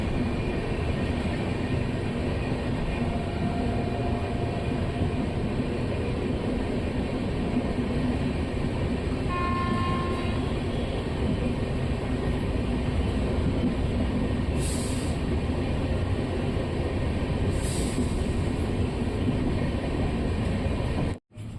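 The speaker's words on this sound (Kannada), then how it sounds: "ಮಲ್ಲೇಶ್ವರ ರೈಲ್ವೆ ಸ್ಟೇಷನ್ನ ನಮ್ಮ ಟ್ರೈನ್ ಸ್ಕಿಪ್ ಮಾಡ್ತಿದೆ" Steady, loud rumble of an express train running along the tracks, skipping a station, continuous throughout with a couple of brief high hissing bursts near the end.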